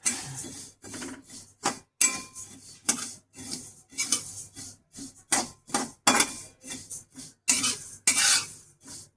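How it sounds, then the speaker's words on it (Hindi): Fennel seeds being stirred while roasting in a hot kadhai, repeated scraping and rustling strokes in an uneven rhythm, close and distinct with short pauses between strokes. "अब देखो कढ़ाई गर्म होने के साथ में ना सौंफ को चलाना भी ज़रूरी है"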